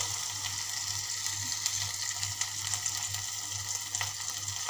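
Finely chopped tomato fries gently with ginger-garlic paste in a pan, giving a soft, steady sizzle with light crackles and a faint low hum underneath. The sound is quiet and continuous, with no voices.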